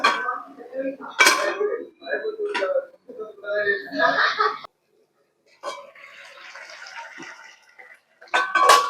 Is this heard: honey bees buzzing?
no